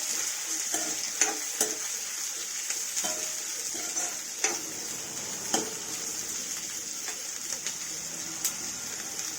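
Vegetable curry fries in a pan under steady stirring, a constant bright sizzle broken by sharp clicks of the spoon against the metal, close and even throughout with no voices.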